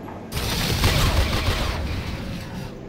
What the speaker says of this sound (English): make sure that everybody is firing